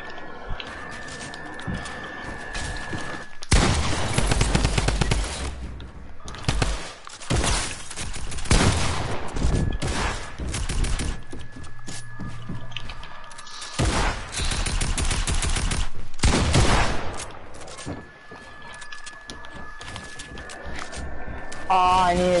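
Fortnite gunfire rattles in repeated sharp bursts and volleys over a busy game soundscape, with a voice talking intermittently.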